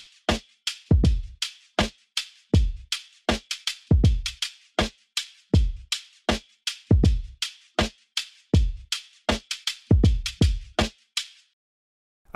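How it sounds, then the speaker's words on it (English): Drum loop sample chosen for a music track, played alone: a punchy, steady beat of kicks and crisp snares and hats repeating in an even groove, close and fairly loud with no voices. "I chopped up the drum loop"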